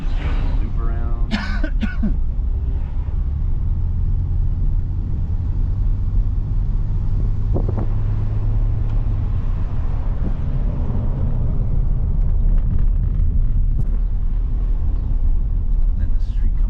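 Interior ride in a 1992 Ford Taurus through a Montreal residential neighborhood, with a steady low engine and road rumble throughout, brief throat-clearing-like noises early on, and a voice talking near the start.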